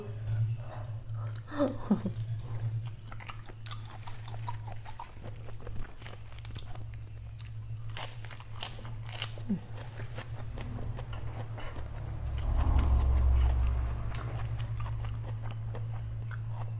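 Raw river shrimp sashimi eaten with a spicy seafood dipping sauce, chewed and bitten in soft crunchy bursts near the mic, under steady low background hum.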